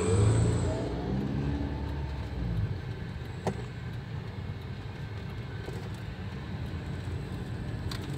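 An automatic Rush SUV fitted with a Blackcore kit speeds up on a test drive. The engine note rises briefly at first, then settles into a steady interior road hum with faint knocks.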